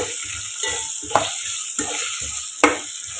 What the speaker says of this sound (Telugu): ఈ ములక్కాళ్ళు కొంచెంసేపు అలా మగ్గనివ్వాలి